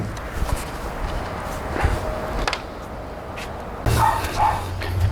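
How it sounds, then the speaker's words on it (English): A dog barks a few times at a distance, the short, faint barks rising over a quiet outdoor background with some light shuffling. "that stupid dog barks and barks and barks."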